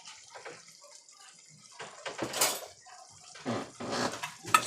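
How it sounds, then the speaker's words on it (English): A spoon stirs baked spaghetti in a pot, giving wet squelching sloshes and scrapes in irregular bursts, close and fairly quiet with a light metallic clink at the end. "Just another spoon to get it stirred all up."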